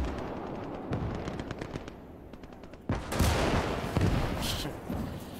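Rapid, repeated gunfire crackles through a tank battle in a World War II strategy game, with dense bursts of shots and booming impacts that grow louder and heavier partway through, carrying on without any talk.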